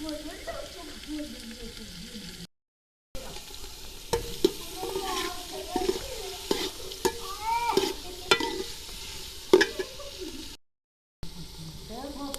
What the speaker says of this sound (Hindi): प्याज को अच्छे से ब्राउन होने तक फ्राई करेंगे